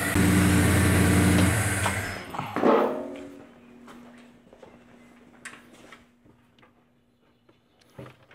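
A Simca Chambord engine, run for the first time in five years and leaking oil, roars loudly for about two seconds, then is shut off and falls to a low idle hum with faint ticks and clicks nearby.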